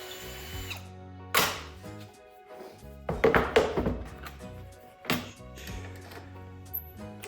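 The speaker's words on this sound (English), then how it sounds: "use a drill and drill out all 4 inside corners of that piece." A power drill bores out the four inside corners of a marked switch cutout in a closet panel, giving several short, loud bursts separated by pauses.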